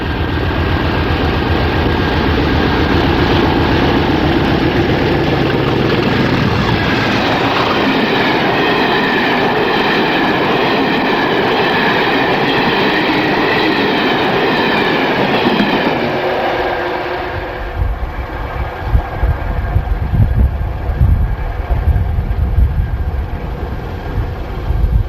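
A British Rail Class 50 diesel locomotive passes close by, its loud engine roar and rushing wagons filling the air before fading into rumbling wheel noise and rail clatter.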